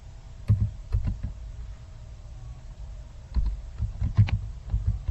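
Keyboard keys clicking in two short bursts of typing while an Excel spreadsheet formula is entered, close and moderately quiet, with a pause between the bursts and no talk.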